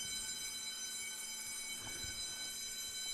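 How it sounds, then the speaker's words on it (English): A building alarm bell rings continuously as a steady, harsh metallic drone held at an even level for the whole stretch, with faint background rumble. "You guys can probably hear that, right? The bell, the alarm."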